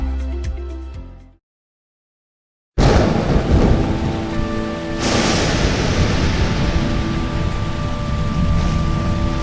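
Thunder cracks and rumbles, then after a short silence heavy rain pours down steadily on surfaces during a thunderstorm. The rain stays loud and close, with no voices.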